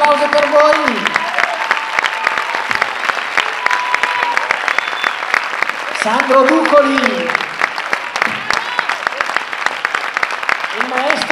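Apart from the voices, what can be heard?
audience applause for a school orchestra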